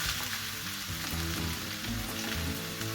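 Broth poured into a pan of pancit bihon and canton rice and egg noodles sets off a loud, steady sizzle and bubbling frying sound, continuous and close, with no voices.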